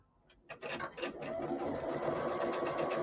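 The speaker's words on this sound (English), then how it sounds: "we're gonna sew our quilt topper together" A sewing machine stitches rows of a beginner quilt topper, its needle running in a steady, fast mechanical patter that starts in short bursts and then holds a continuous rhythm up close.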